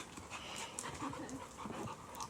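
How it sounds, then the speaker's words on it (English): A nervous dog that has dropped its ball pants close by, with soft breathy huffs and faint whimpers running steadily through a short stretch. "Oh, that's a lovely dog."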